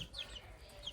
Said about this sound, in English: I think that one's a rooster right here